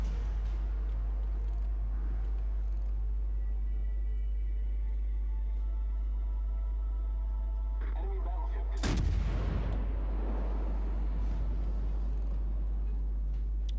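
Heavy warship guns fire AP shells in World of Warships naval combat: one loud, sharp boom with a long rumbling tail, rising from a steady low engine and sea drone, with no talk over it.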